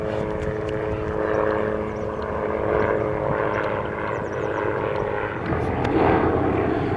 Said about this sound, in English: if the darn helicopter wasn't flying up there